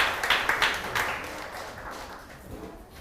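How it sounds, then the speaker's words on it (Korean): Welcoming applause from a church congregation during a Sunday service, a burst of clapping loudest at the start that thins and fades over a few seconds. "잠깐만 일어나시면 저희 환영의 박수 해드리겠습니다"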